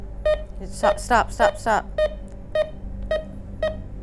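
A paranormal investigation device emits a series of short, evenly spaced electronic beeps at a steady pitch inside the old Bedford School, with people talking over and between the tones.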